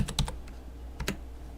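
A few quick keystrokes tap on a computer keyboard, a short cluster of clicks followed by a brief pause and two more taps, close and fairly quiet.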